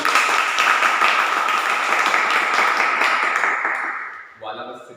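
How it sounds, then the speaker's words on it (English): A Toastmasters meeting audience gives a loud, dense round of applause that holds steady for about four seconds, then fades out as a voice begins speaking. "Can we have another huge round of applause?"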